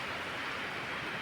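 Steady rain falls in a soft, even hiss that stays faint and unbroken throughout, with no voices over it.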